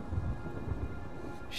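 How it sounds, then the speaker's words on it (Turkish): A thunderstorm in Uncharted 4 at sea near an island, with steady heavy rain and deep rumbling thunder filling the scene, loud and continuous with no talk. "Fırtına çıkıyor."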